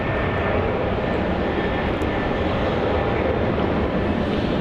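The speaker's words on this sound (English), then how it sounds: "Is that a takeoff?" A jet airliner takes off at Melbourne Airport, a loud, steady broadband engine roar that fills the scene without pause, close and powerful, with a thin high whine riding above it.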